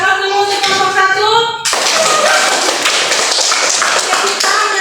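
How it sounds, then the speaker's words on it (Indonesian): Classroom of children applauding a student group, dense rapid clapping that bursts in after a short spoken line and continues steadily and loudly to the end. "kita berikan aplaus dulu untuk kelompok 1"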